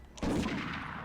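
A single sharp gunshot in a PS1 video game, a sudden blast followed by a short decaying rumble, close and fairly loud.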